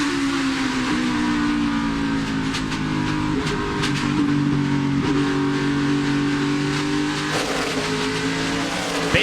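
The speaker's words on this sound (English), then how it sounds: "listen to the race car hitting the racetrack" A NASCAR race car roars into turn 1 at the New England 300, its engine droning loud and continuous with a few sharp thumps as the car bottoms out on the track surface.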